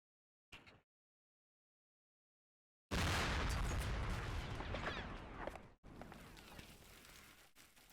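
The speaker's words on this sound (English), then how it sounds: "Hey, mortar strike's coming in though." Mortar strike explosions in Combat Mission: Cold War, a brief thud followed by silence, then a loud sustained crashing blast that rumbles on and a further impact, heavy and close with no talk.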